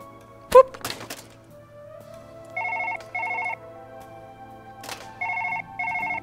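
An old-style telephone in Surgeon Simulator 2013 rings in two double bursts, each a pair of rapid electronic trills, with sharp thuds and clatter before them over a steady low hum.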